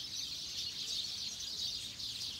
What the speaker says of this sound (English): So many birds living here.